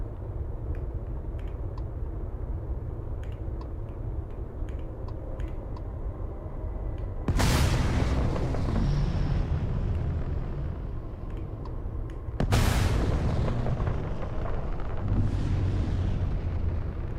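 Missile explosions hitting ships in the space game Starfield, two loud broadband blasts a few seconds apart, each with a sharp onset and a long rumbling decay over steady engine drone.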